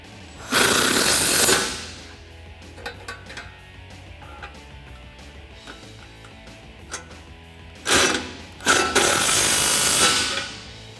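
A crescent wrench tightens the nuts and bolts that mount a Rough Country PRO Series 9,500 lb winch, with two loud bursts of metal scraping and ratcheting and scattered sharp metallic clicks in the quieter stretch between.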